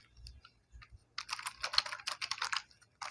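Fast typing of C++ code on a computer keyboard, quiet and close: a few scattered key clicks, then a dense run of rapid clattering keystrokes from about one second on, with no talk.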